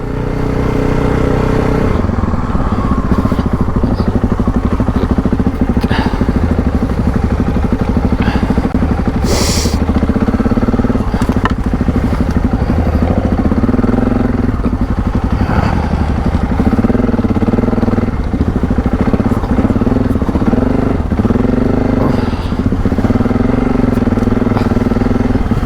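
Adventure motorcycles, a Yamaha Ténéré or KTM 790, ridden off-road on a cold morning, with a loud, close engine that rises and falls with throttle changes and carries scattered knocks and rattles across the whole stretch.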